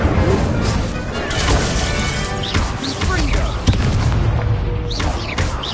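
In the Hogwarts Legacy video game, the Incendio fire spell erupts in repeated loud crashing, booming bursts amid dense game effects, with a burst of whooshing flame sweeps scattered through the scene.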